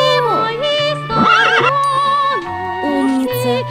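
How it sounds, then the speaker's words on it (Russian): A horse gives a loud, close whinny with wavering, shaky tones that fill the whole stretch, rising and falling in pitch with no other sound over it. "Покажи лошадку. Она умеет ржать."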